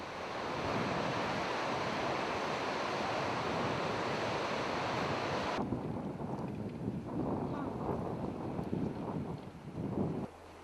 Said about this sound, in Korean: 거센 강물이 흐르는 계곡